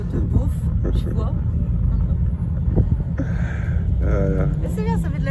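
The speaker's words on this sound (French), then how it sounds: "Elles sont tunées, quoi. Elles ont mis des gros pots et tout." Tuned cars fitted with big exhaust pipes rumble loudly and steadily throughout on a music-filled Sunday in Gréolières, Alpes-Maritimes, with people talking over the deep engine noise.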